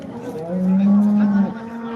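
A single deep moo from a large cow at a cattle market in Modnimb swells and holds for about a second, fairly close, against a quiet background.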